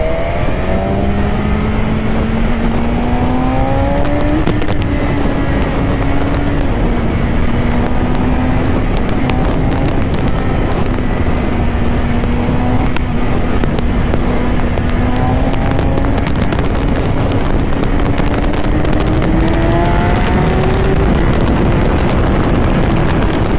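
A motorcycle in race mode accelerates hard along a highway toward speeds over 200, its loud, close engine droning and rising in pitch through long pulls under heavy wind roar.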